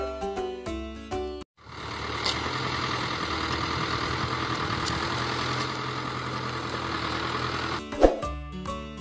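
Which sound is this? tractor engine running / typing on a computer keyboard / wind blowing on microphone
tractor engine running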